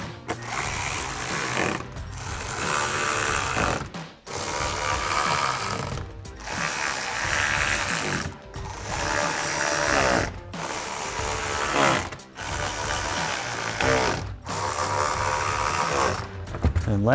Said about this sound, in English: grab our ratchet and T15 socket and re-secure all of our screws going all the way across